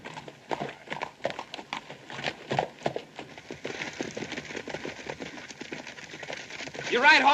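Hooves of horses in an Old West film drum along steadily at a gallop, with a rider's voice mixed in and the pace building toward the end.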